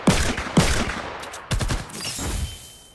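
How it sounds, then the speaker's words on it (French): Pistol firing in the video game Fortnite: a few sharp, loud shots in irregular succession, each with a short decaying tail, with no talk over them. "Le pistolet aussi, j'aime trop le bruit."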